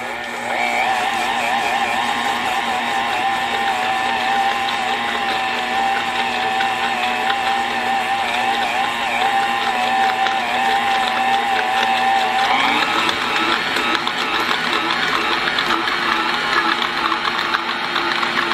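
An electric stand mixer beats maple pound cake batter in a bowl with a loud, steady whirring drone that carries on without pause, its pitch rising partway through as the speed is increased.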